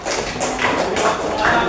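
Rhythmic hand clapping in an elementary classroom during a Quran surah lesson, sharp claps landing roughly every half second over the children's voices.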